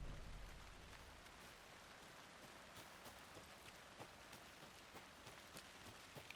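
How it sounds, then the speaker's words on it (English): Rain patters steadily across surfaces in the video game Alan Wake 2, a soft, even wash of drops with scattered sharper taps, quiet and continuous with no voices. "unless the rain just randomly starts like this."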